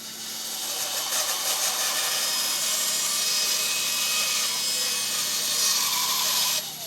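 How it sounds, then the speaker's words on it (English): A bandsaw cuts wooden boat blanks with a steady, loud, continuous rasping whine that holds for several seconds and then stops abruptly. "Dude, I love my bandsaw."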